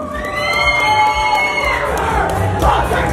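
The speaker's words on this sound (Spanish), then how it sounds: "Aplausos para la parejita número 4." Crowd at a norteña dance contest in Fort Worth, Texas, cheering and whooping loudly with shouts and applause mixed over music in the background.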